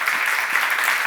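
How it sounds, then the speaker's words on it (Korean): A congregation at a Korean church seminar applauds in a brief, steady burst of many hands clapping together, fairly loud and unbroken by talk. "박수를 한번 드리세요."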